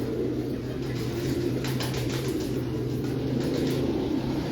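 Sialkoti Paral pigeons cooing in a loft, a steady low rolling coo near and fairly loud, with a faint background drone.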